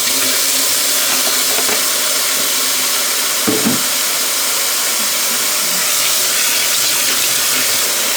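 Tap water runs into a sink for washing football gloves, a loud continuous rushing hiss with one brief clunk partway through.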